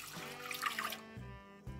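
A warm mixture of milk and water is poured into a bowl that already holds sugar, giving a brief, soft trickle that quickly fades.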